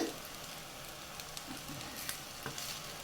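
Butter garlic paneer fried rice sizzles in a pan with a constant soft hiss and a few light ticks and scrapes, quiet and even throughout.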